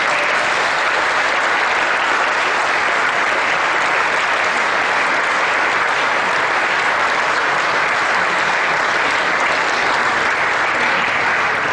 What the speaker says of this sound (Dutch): Met uw applaus kunt u blij geven voor de instemming.